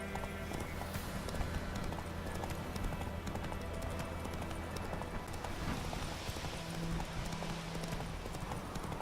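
Horse galloping in the video game The Witcher, rapid rhythmic hoofbeats drumming steadily and close over a continuous backdrop of game ambience, with no talking heard.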